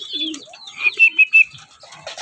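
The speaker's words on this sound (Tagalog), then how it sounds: "May ibon na tayo ulit mga kalapatids, si Kilua, yung ating red bar." A red bar racing pigeon is heard at the loft during club training, giving soft cooing and a few short, clipped chirps up close, with brief quiet gaps between the calls.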